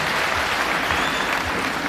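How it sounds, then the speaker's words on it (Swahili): A church congregation at a service in honour of Kenya's president-elect William Ruto claps together for the preacher, a dense, loud and continuous burst of applause filling the room with no voices on top. "tupigie makofi tena mhubiri wetu wa leo"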